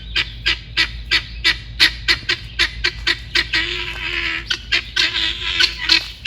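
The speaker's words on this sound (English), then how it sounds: "I think I heard the guineas." Guinea fowl on a farm give a run of loud, rhythmic, harsh calls, repeated rapid squawks sounding close over a low background hum.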